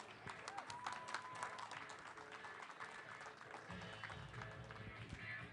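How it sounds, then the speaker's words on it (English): A crowd at a weightlifting competition claps for the lifters in a rough, uneven burst, with some knocking and shuffling and a lower rumble of movement joining partway through. "let's get a round of applause for all the lifters and photos"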